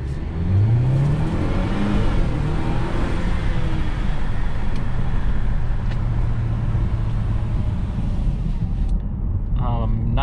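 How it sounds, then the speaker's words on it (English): A 2021 Mercedes-Benz GLC 300 SUV accelerating with its window down, loud steady wind and road roar with engine rising in pitch, and a brief chime near the end. "Go ahead and give you a quick acceleration right here with the window down."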